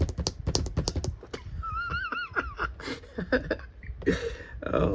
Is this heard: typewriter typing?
yes